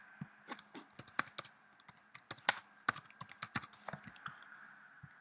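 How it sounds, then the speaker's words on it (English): Irregular bursts of keystrokes on a computer keyboard as text is typed into a graphics program, close and clear with uneven rhythm and no talking. "Type whatever you fancy."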